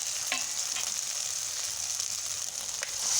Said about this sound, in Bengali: মশলাটাও ভালোভাবে ভাজা হয়ে গিয়েছে